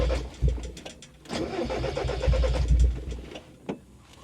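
A junk Mazda Miata with a weak battery cranks with its clutch in, giving a close, rough, uneven churn of starter and engine turning over in two bursts, with a few clicks between and no voices.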